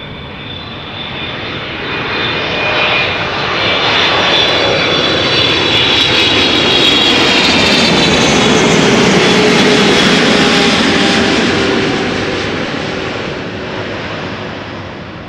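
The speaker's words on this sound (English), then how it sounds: "KLM flight 682, 777-300ER. Let's listen how it sounds." A KLM Boeing 777-300ER jet airliner passes at an Amsterdam plane-spotting location, its engines roaring loudly as a broad rumble that swells, peaks midway and slowly fades, with a faint descending whine.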